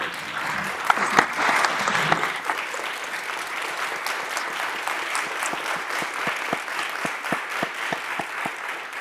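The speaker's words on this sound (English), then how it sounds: "a round of applause for keeping us all safe through this process." An audience at a city council meeting applauds health workers, steady clapping from a roomful of people that starts loud and settles into a thinning, sustained round, with no speech over it.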